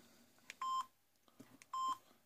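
A quiet electronic incoming-call ringtone from a Samsung X210 flip phone plays twice, each a short held beep between faint blips.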